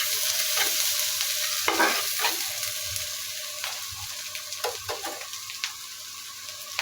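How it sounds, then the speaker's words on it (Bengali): Onions and green chilies frying in mustard oil, a close sizzle under repeated spatula scrapes and taps, busier at first, then settling into lighter, quicker stirring. "নেড়ে ভালো করে গোল্ডেন কালার করে ভেজে নিব"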